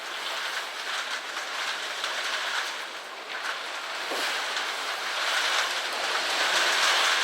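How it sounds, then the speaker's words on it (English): Steady gusty wind blowing across an open allotment garden, a broad continuous rushing roar that swells slightly toward the end, with no voices. "Oh, that wind's coming back a bit now."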